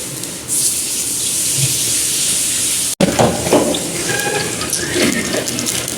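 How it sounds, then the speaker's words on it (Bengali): Oil heats in a wok (kadai) for egg noodles, giving a steady close hiss that cuts out briefly midway, then returns with denser crackling and sputtering. "তেল দিয়ে দিলাম, গরম হইতেছে।"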